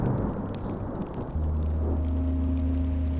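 Rainfall in Minecraft: Story Mode, a soft broadband patter heard alone at moderate distance, joined partway through by a low sustained hum.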